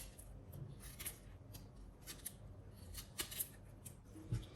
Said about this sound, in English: I'll be cutting this into smaller bits.